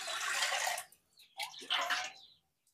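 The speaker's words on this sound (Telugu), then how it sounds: "ఈ గ్లాస్తో 7 గ్లాసులు వాటర్ తీసుకోవాలి." Water poured from a drinking glass into a cooking pot in two splashing bursts, one after the other with a short pause between, close and moderately loud.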